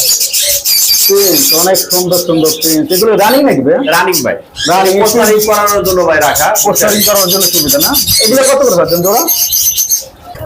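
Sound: small cage birds at a bird market

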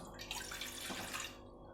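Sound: water poured into a pot

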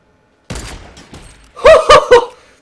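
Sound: sniper rifle shot in the video game Fortnite

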